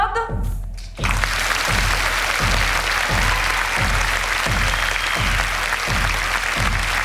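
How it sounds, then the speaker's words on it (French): An audience gives loud, sustained applause for a theatre play staged with prisoners at Fresnes. Dense clapping fills the room, with a steady beat of rhythmic thumps under it, after a brief moment of talk at the start. "je vous demande, mesdames et messieurs, d'applaudir très fort, mais très très fort, Job,"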